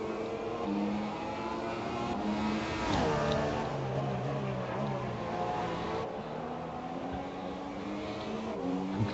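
A race car engine drones steadily on a timed lap on super soft tyres in a Hungary race video game. The continuous loud engine tone shifts pitch with gear changes and throttle, with no voices.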